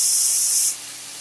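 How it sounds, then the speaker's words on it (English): Minced garlic, about a tablespoon, hitting a hot pan over medium-high heat for lamb and rice, a loud bright hiss that drops to a softer steady sizzle after a moment. "put in a tablespoon of garlic. Minced garlic"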